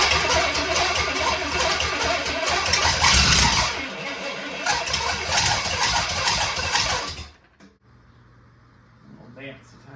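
A freshly wired engine cranks and fires for its first run, running loud and rough for several seconds before cutting out abruptly, followed by quieter clicks and faint handling sounds.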